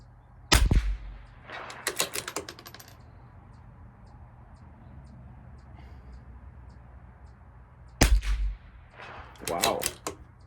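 CZ 457 LRP rifle firing Eley Tenex Pistol ammunition at a 200-yard range: two sharp, loud shots several seconds apart, each followed by a short burst of clattering and handling noise, over a steady low hum.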